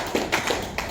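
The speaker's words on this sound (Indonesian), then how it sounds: "tepuk tangan untuk Nagekeo-nya" A brief burst of a few claps at an Indonesian police anniversary celebration for Bhayangkara Day in Nagekeo, sounding close and sparse over a short stretch rather than sustained applause.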